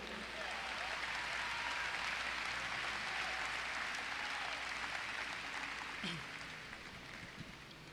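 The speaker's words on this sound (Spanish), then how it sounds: "Vamos a darle un aplauso al Señor." Applause from a church congregation during a Spanish-language sermon: sustained, even clapping from many hands, fairly distant and soft, tapering slightly toward the end.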